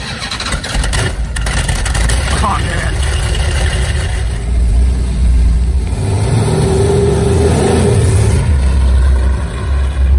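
Engine of a 1970 Dodge Challenger muscle car revving, a loud rough rumble that swells and settles over several seconds, with a brief spoken exclamation partway through.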